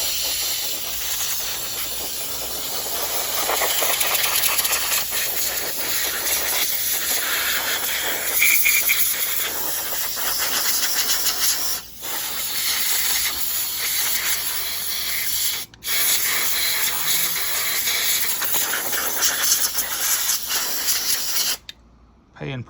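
Compressed air hissing steadily from an air compressor nozzle as it blows dirt off a Traxxas Revo 3.3 RC car, loud and continuous with a few brief breaks and a cutoff at the end.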